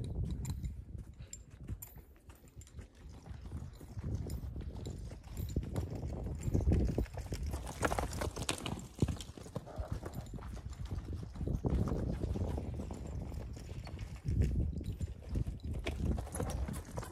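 A horse's hooves clip-clop steadily through a training ride, an even continuous beat heard close up over ambient noise, with no clear talking.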